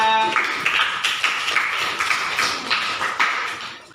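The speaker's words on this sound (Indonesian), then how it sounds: "Beri tepuk tangan untuk kelompoknya." Applause for a school group in a classroom: a dense patter of many hands clapping close by, steady for several seconds with slight swells.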